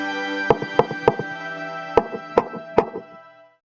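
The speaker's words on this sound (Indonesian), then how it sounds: "tiba-tiba terdengar seseorang mengetuk pintu" Knocks on a front door at night, sharp hard raps in two groups of three, a quick triple followed after a pause by another triple, close and clear with a resonant ring, no talking.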